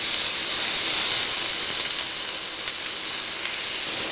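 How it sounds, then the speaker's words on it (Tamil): Ginger garlic paste sizzles in melted butter in a pan, a steady, loud, bright hiss that runs unbroken throughout with no talking. "பட்டர் நல்லா உருகி வச்சு ஸோ அதிலேயே இஞ்சி பூண்டு பேஸ்ட் சேர்த்துக்கிறேன்"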